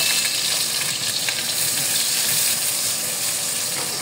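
Garlic and onion sizzle steadily in a hot pan, a loud, continuous frying hiss with faint crackles and no talking.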